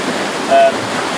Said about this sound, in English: I hope you can hear me over the sea